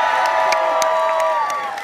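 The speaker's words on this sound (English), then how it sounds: "listen to that crowd" A large crowd cheers and shouts continuously at a Georgia renaissance festival stage show, loud and sustained with whoops rising above the roar.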